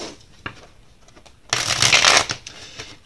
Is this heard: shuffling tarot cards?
yes